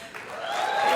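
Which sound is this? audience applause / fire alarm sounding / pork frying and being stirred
audience applause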